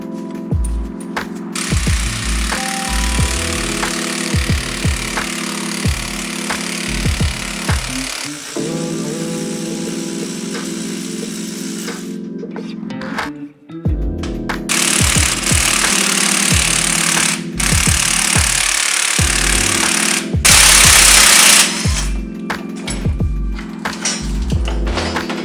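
Impact-driven spring compressor working on the coil spring of an old BMW strut in a home garage, loud rapid hammering bursts in repeated runs with brief pauses and a sharp mechanical clunk midway, no talking.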